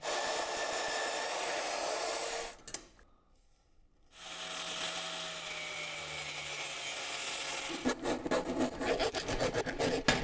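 Air holes being cut into the steel front plate of a homemade woodstove, a steady loud abrasive grinding or rasping that drops out briefly, resumes, then breaks into choppier scraping strokes near the end.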